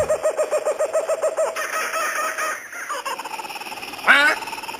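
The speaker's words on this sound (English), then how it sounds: "Did you hear that? That must be our friend the parrot." An Amazon parrot lets out repeated raspy squawks and calls in a warm Brazilian forest setting, a rhythmic series of cries followed by one loud, rising shriek near the end, with no talking.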